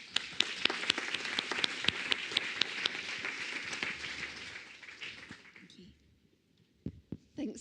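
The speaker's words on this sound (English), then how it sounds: "Please give them an applause." Audience applause at a Copernicus climate service general assembly, a few seconds of sustained clapping with distinct individual claps that thins and fades out, followed by scattered last claps.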